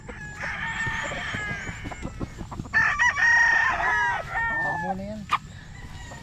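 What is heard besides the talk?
rooster crowing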